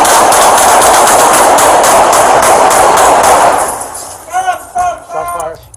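San Antonio police officers fire a rapid, loud burst of many gunshots at an armed suspect, recorded close up on a body camera, followed by shouting voices once the shooting stops.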